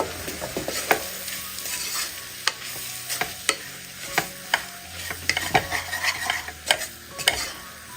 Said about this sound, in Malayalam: ഈ പൊടിയുടെ പച്ചമണം മാറി കിട്ടുന്നവരെ ഒന്ന് ഇളക്കി കൊടുക്കുക